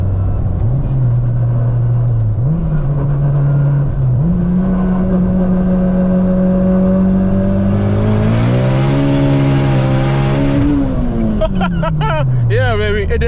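A 600hp turbocharged Honda Civic engine revs hard and close during a pull, its loud drone climbing in stepped surges before easing back down, with voices faintly mixed in.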